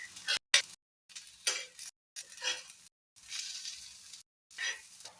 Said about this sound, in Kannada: ಗ್ಯಾಸ್ನ ಫ್ಲೇಮು ಸಿಮ್ಮಲ್ಲಿಟ್ಟು 2-3 ನಿಮಿಷ ಫ್ರೈ ಆಗಲಿ